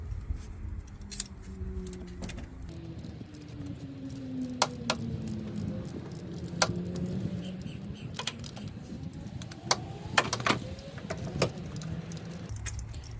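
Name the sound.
ratchet drive loosening a Subaru spark plug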